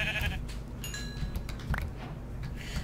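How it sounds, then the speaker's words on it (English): A sheep bleats in the video game Minecraft, a brief wavering cry heard over steady in-game background sound and music. "I need a white sheep."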